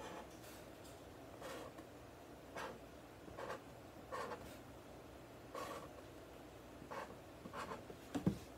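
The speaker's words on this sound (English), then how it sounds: "So I'm gonna write freedom like this." A pen writing a word on a cardboard box, a series of short, quiet scratching strokes spaced out with brief pauses, close and faint, no talking.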